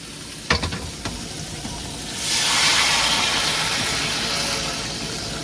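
Crab curry sautés in a pan at an outdoor picnic: a few sharp knocks and clatters open over a quiet sizzle, then a loud, steady hissing surge swells up and holds close by.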